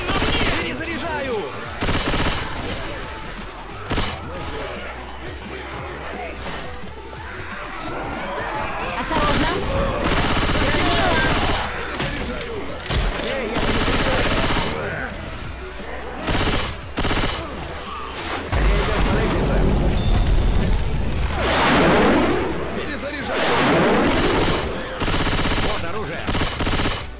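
Sustained heavy shooting in a video game, with overlapping machine-gun bursts and rapid rifle fire, loud and close, broken by short pauses and booms, with voices shouting in between.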